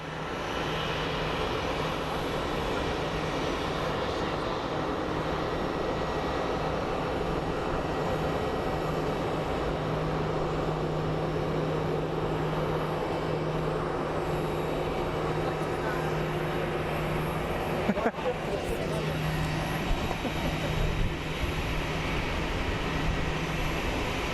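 A British Airways jet at Phoenix Sky Harbor airport gives off a constant, moderately loud engine rumble with a sustained low hum, a brief crackle interrupting it late on.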